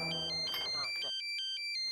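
An electronic phone ringtone chirps in repeated short bursts, overlapping a voice at first and then ringing on its own.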